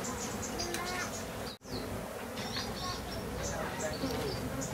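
A swarm of honeybees buzzes densely around a hive box as it settles. The high, wavering hum runs continuously with individual bees flying by, broken only by one brief dropout.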